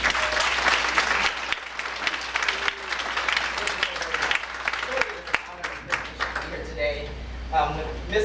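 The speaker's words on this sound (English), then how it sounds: "would you all receive him with a round of applause, please?" Audience applause at a middle school speaking event welcomes a guest speaker, a steady wash of clapping that lasts several seconds, with scattered voices and crowd murmur mixed in near the end.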